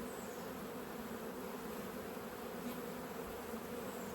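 A box overflowing with honeybees gives off a thick, even buzzing hum, close and unbroken throughout, quiet but clear and free of speech.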